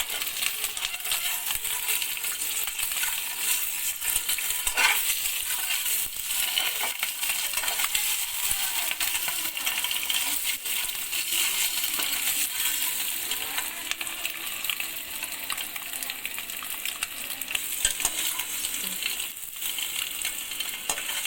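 Eggs roast in masala in a pan, giving a continuous crackling sizzle with scattered sharp pops and scraping stirs, close and steady with no talk.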